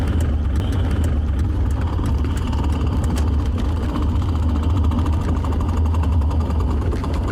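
A 1987 BMW E28 with chipped transmission gear teeth runs with a loud, continuous rough drone and a steady low rumble, joined by a faint rhythmic ticking and grinding throughout.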